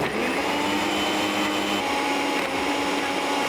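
A blender whirs steadily at high speed, crushing frozen watermelon with lemon and honey, a dense continuous grinding roar that holds at a constant loud level throughout with no voices.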